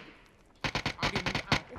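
Rapid burst of video game gunfire in PUBG: after a short quiet lead-in, a string of sharp, loud shots fires in quick succession, closely spaced and punchy.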